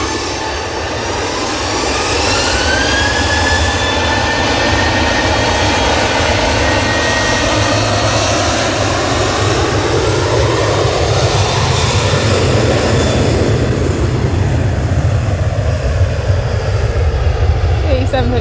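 A Boeing 737 jet heads out for Almeria at Manchester Airport, its loud, steady engine roar building early and holding, with a falling whine sweeping through as it passes close by.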